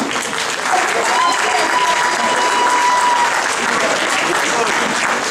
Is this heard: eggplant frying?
no